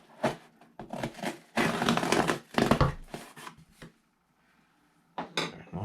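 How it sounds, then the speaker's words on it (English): Cutting and tearing through the packaging of a Supreme x Shrek skate deck at a desk, a close, loud run of scraping, crinkling and crunching bursts that stops briefly before one last rustle. "And let me just cut this other part over here."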